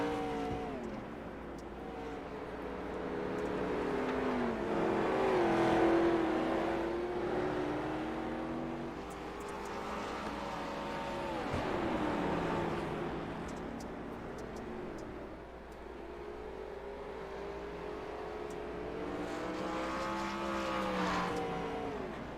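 Race cars from a sim racing game lapping the Eldora Speedway dirt oval, a steady drone of engines rising and falling as cars pass, with one car swelling loudest mid-lap.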